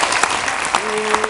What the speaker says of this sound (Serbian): U to ime aplauz.